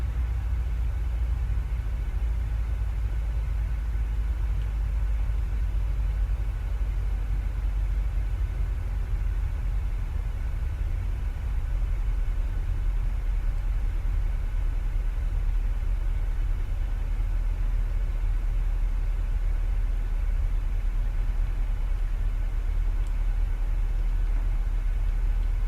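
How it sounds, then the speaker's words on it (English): Boeing 737 engines in the PMDG flight simulator spool down into a deep, steady bass rumble that holds level and unbroken throughout, with no voices over it. "I can hear the engines rolling back"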